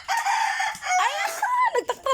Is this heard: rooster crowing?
yes